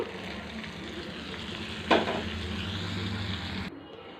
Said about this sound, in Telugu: నేను తాలింపు వేసుకున్నాం.